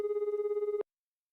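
In Collar X Malice, a phone call rings out as a single loud, steady warbling ring that stops abruptly, then silence.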